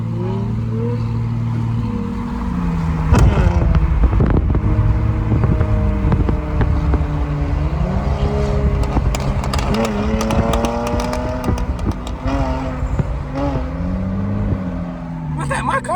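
A Dodge Challenger and a Lexus IS300 idle and rev nearby, engine tones rising and falling with sharp crackling exhaust pops scattered through the middle, while people talk over the noise.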